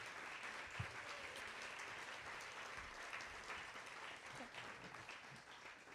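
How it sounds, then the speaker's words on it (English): An audience at an awards event applauds a board of directors, a continuous, moderately distant patter of many hands clapping at an even level throughout. "Let's give a round of applause to the Bright Promises board of directors"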